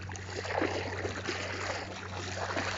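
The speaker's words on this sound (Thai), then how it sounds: "นี่น้ำไหลแรงมากเลย" Rushing floodwater pours steadily and strongly through flooded rice fields in Surin province, Thailand, a dense continuous roar of fast flow, close and loud without pause.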